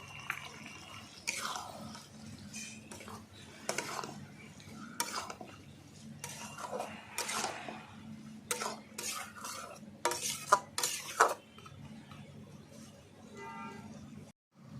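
A spoon scrapes and clatters against a pan while chicken curry with spices sautés, giving a soft sizzle under irregular metallic knocks and stirring strokes that come in bursts.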